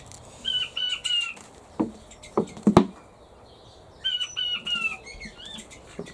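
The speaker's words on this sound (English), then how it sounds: "What the quail sound like when they do the little crow." Quail giving short, high crowing calls, a female also doing it, with two clusters of thin chirping notes around a few low knocks and rustles, fairly close in a quiet pen.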